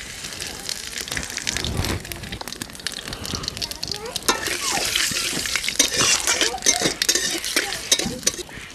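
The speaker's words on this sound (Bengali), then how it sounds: "এবার আমি জিরেটা তেজপাতাটা ফোড়ন দিচ্ছি।" Cumin seeds and bay leaf tempering in hot oil in a heated wok, a steady crackling sizzle that swells in the second half, with a voice talking over it.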